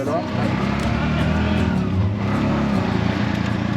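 A tuk-tuk carrying three passengers pulls away on a South American street, its small engine droning steadily and close by for a few seconds while people talk over it.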